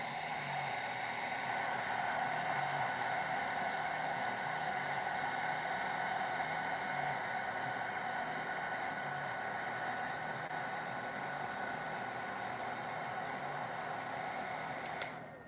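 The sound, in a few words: dryer drying paint on skateboard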